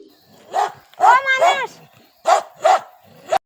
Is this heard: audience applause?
no